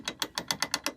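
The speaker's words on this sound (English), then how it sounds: "this is turning it counterclockwise, and it ratchets" Ratchet on a San Juan 21 sailboat centerboard winch being turned counterclockwise, eight crisp evenly spaced clicks in about a second, close and clear with nothing else behind them.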